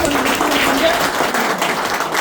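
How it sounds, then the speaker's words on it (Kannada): Audience at a business event claps in a steady, dense burst that carries on throughout at close range, with a voice speaking over it. "ಒಂದು ಜೋರು ಚಪ್ಪಾಳೆ"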